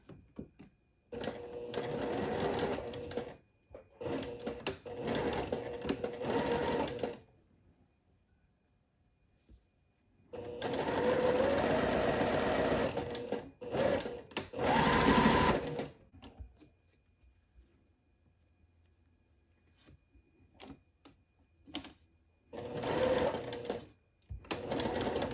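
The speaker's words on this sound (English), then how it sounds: "Now I'm sewing the shoulder seams of the main bodice together." A sewing machine stitches the shoulder seams of a dress bodice in several close bursts of quick mechanical whirring, with quiet gaps between runs.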